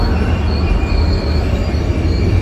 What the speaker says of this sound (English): we got a southbound train right over here. So, rumbly.